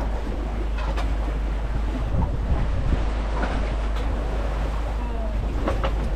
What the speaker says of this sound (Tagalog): Laki ng gulong ng alon, mga kabisig.